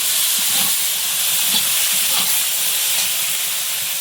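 Tomatoes and green chillies sizzle in a cooking pan, a steady, loud broadband hiss of frying that runs continuously without pause.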